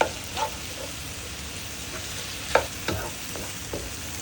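Shrimp paste (alamang) sautéing in a pan for binagoongan eggplant, a soft steady sizzle with a few scattered spatula scrapes and stirring knocks, fairly close and quiet, no talking.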